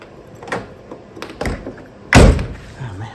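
A Citroën C4 car door swung shut with one loud solid thump near the end, preceded by a few softer clicks and handle knocks, close up.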